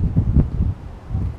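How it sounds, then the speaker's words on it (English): Low, buffeting wind gusts rumble against the microphone in uneven bursts outdoors by a bridge, with no voices present. "And it's very windy."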